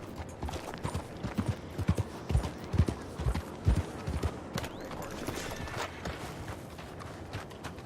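Horse hooves clip-clop at a walking pace in Red Dead Redemption II, a steady series of close, distinct thuds with occasional heavier strikes and faint background ambience.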